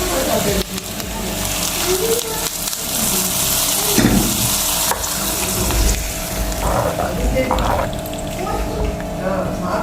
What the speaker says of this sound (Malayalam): ചെറിയതായിട്ടൊരു കടു കടുതാളിപ്പ് ഉള്ളിയും കടുകും മറ്റേലും മുളകും കറിവേപ്പിലയും ചേർത്ത് വെളിച്ചെണ്ണയെ കടുതാളിച്ചത് പക്ഷേ അത് നമുക്ക് ഇതിലേക്ക് ഒഴിക്കാം